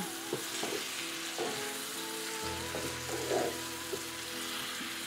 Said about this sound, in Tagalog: Lagyan na natin yung kamatis. Ayan. Para maluto. Lutuin natin yan.